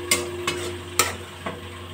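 Food with whisked yogurt being stirred in a pan over a low flame for begun bahar, four short scraping strokes spaced about half a second apart over a quiet steady hum.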